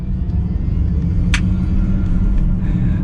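A 2022 Mercedes-Benz EQS 450+ electric car accelerating from inside the cabin gives a steady low road rumble and a faint synthetic drive hum, with a brief sharp click partway through.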